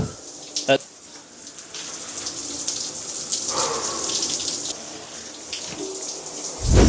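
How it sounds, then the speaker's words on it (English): A cold shower runs in a steady broadband hiss of spraying water, close and fairly loud, with a few sharp knocks and splashes and a surge at the end. "we're just gonna do a regular cold shower right now"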